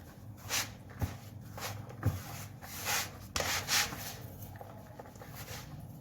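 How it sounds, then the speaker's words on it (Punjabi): Ghee is rubbed into maida flour by hand in a home kitchen for a savoury snack, producing soft, repeated rubbing and scraping swishes at close range. "ਆਪਾਂ ਆ ਮੈਦੇ ਚ ਘਿਓ ਰਲਾ ਕੇ ਇਹਨੂੰ ਐ ਕਰਕੇ ਆਪਾਂ ਮਿਕਸ ਕਰ ਲੈਣਾ"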